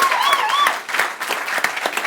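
Audience applause for a guest at a live talk, a dense burst of clapping that fades briefly near the middle and then picks up again, with a few whistles or cheers over it.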